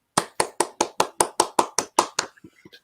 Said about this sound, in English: Kristi Saare Duarte, round of applause, everybody.